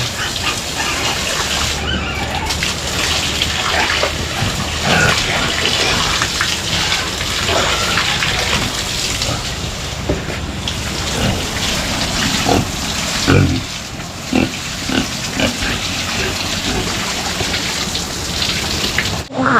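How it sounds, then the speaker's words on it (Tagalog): Water from a mountain source splashes and gushes continuously nearby, a busy, uneven rushing with scattered knocks and drips throughout. "Itong tubig na ito pala guys galing sa bundok."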